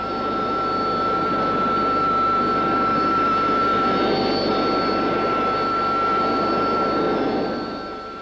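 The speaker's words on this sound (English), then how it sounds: "Taxiing out, this 8B shows off its new bulged high-visibility canopy and retracted flight refueling probe above the inlet duct." A Harrier II AV-8B jet taxies nearby, its engine giving a loud, steady jet roar and a high-pitched whine that holds throughout, then fades slightly at the end.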